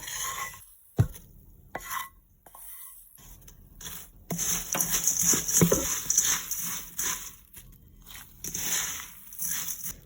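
Cheerios being tossed and mixed with spiced oil for a masala snack, a dry rustling and crunching of cereal against the pan, with intermittent scraping and a few sharp knocks.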